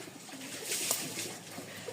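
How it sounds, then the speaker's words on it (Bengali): Pigeons kept for sale coo softly nearby, making low, faint murmuring calls against a quiet background, with no one speaking. "এই হচ্ছে আরও দুই জোড়া কবুতর"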